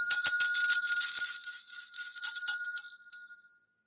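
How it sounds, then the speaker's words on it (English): A small hand bell rung briskly in a classroom to start a lesson, a bright jangling ring of rapid strokes lasting about three seconds before stopping and fading out. "I'm going to ring the bell to start the beginning of the class."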